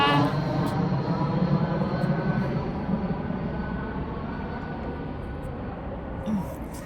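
Airplanes flying overhead outdoors in the UK make a broad, steady roar that is loudest at first and slowly fades over several seconds, distant, with no talking.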